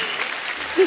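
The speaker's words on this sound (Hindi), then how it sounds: "तालियां।" A studio audience on a comedy talk show applauds a sports player, a brief burst of dense clapping under a single short vocal sound near the end.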